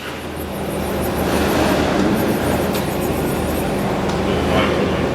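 A 2008 Okuma Captain L470M/1250 CNC turning center with live milling tooling and a 15-inch chuck runs with a loud, steady mechanical roar and whir, continuous throughout with a few faint ticks.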